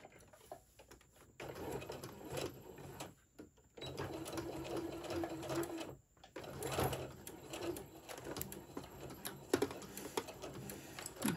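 A sewing machine runs in steady whirring bursts, pausing briefly between stretches of stitching, with light mechanical clatter close by.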